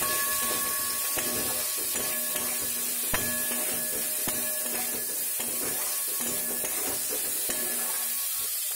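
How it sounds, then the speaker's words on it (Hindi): Chopped onions fry in a small amount of hot oil in a kadai, giving a steady, close sizzling hiss with faint scraping and stirring sounds throughout. "फिर से ऑयल में पहले जो मैं प्याज काट के रखी हूँ उसको डाल दूँगी"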